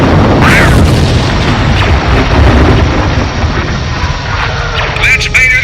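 A heavy missile explosion striking its target in a Star Wars audio drama space battle, a loud booming blast that rolls on with rumbling debris and battle effects, with voices speaking over it.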